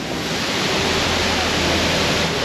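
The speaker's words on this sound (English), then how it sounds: "right beside is a full-blown waterfall" A steady, roaring rush of falling water from a waterfall in La Fortuna, Costa Rica, fills the whole clip, loud and close, with no break or change.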